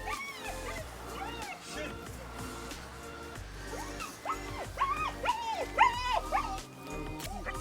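Dogs at a training field yip, bark and whimper in short rising bursts, strongest toward the end, over a steady low background while people talk nearby.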